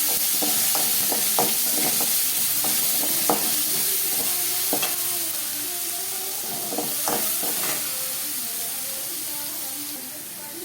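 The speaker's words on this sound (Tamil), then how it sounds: "இஞ்சி போடுறோம். இஞ்சி நல்லா வணங்கட்டும்." Chopped ginger frying in oil in a pan while a mushroom gravy is cooked, a steady close sizzle with scattered stirring scrapes and clicks throughout, no talking.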